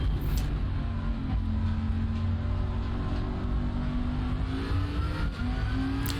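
Race cars in a racing video game at Brands Hatch drone steadily, one engine note rising gradually as the car accelerates through a recovery drive, with the sound of others around it and no talk.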